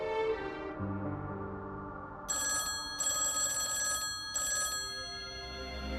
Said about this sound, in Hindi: समीर का फोन।